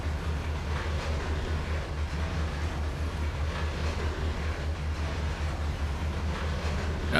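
An SD60 diesel locomotive in BNSF Heritage colours running in the Trainz 2022 train simulator, a steady deep engine drone with a faint clatter on top, continuous and even throughout.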